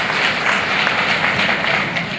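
A crowd applauds loudly and continuously at an award ceremony, with dense, even clapping filling the whole moment and no talk.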